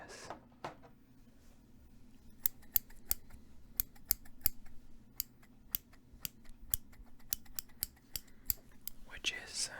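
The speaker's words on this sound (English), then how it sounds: "a small pair of scissors." Small pair of scissors snipping close up in a quiet ASMR setting, a string of crisp, sharp irregular cuts with brief pauses between, and soft whispered speech at the start and end.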